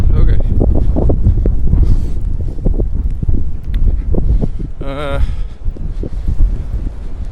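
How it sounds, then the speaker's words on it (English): Strong gusty wind in a snowstorm in the Netherlands buffets the microphone loudly and continuously, with rising and falling roars and a brief whistling sound midway. "the wind intensity is picking up."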